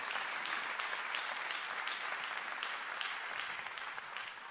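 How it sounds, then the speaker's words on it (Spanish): A church congregation applauds steadily throughout, a dense even patter of many hands clapping that holds at a moderate level with no voices rising above it. "dele un aplauso al Señor por eso."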